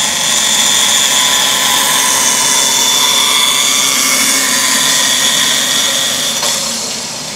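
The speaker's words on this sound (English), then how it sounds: "wait for the bandsaw to stop, and then we can remove our waste" A bandsaw cuts wood for a hedgehog house, giving a loud, continuous high-pitched whine and hum from start to finish that eases off slightly at the very end, with no talk.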